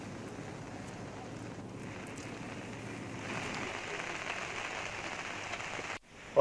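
Heavy rain during flooding in Uttarakhand drums steadily on surfaces as a dense, even hiss that grows a little louder partway through, recorded close with no voices.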